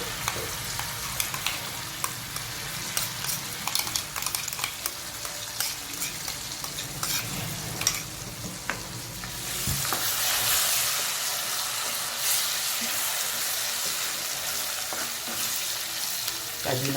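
Paneer gravy with cashews and green chillies fries in a pan, a close crackling sizzle broken by frequent clinks and scrapes of a spoon stirring, turning into a louder, smoother hiss in the second half.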